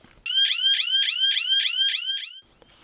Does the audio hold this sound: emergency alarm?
yes